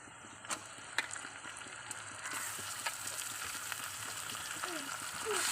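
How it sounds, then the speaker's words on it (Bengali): Meat added to oil with lightly fried onions and chillies, sizzling faintly and steadily with a few sharp clinks early on and the frying growing fuller midway. "এবার মাংসগুলো দিয়ে দেবো।"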